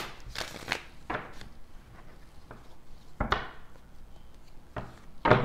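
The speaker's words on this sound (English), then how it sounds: "let's get a couple shuffles in here" Tarot cards are shuffled by hand in short, irregular bursts of crisp riffling and soft slaps, close and moderately loud, with brief quiet gaps between passes.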